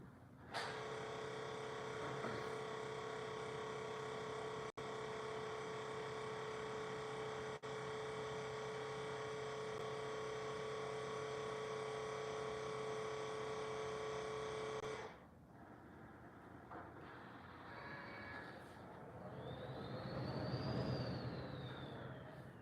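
An Epson commercial DTF printer runs an ink flush cycle as a steady, loud mechanical drone with a tonal whine for about fifteen seconds, then stops and gives way to quieter clicks and a brief rising and falling whir.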